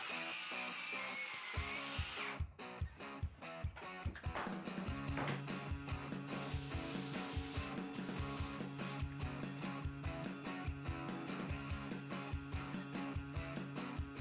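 Power drill boring pilot and countersink holes in plywood: quiet, rapid repeated bursts of whirring and clicking that follow a steady, uneven rhythm through the whole passage, with no talk.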